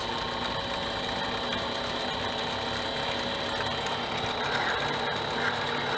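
A Harbor Freight mini lathe running at about 450 RPM takes a cut in steel, giving a steady, close mechanical whir with fine ratcheting gear chatter that holds even throughout, with no talk.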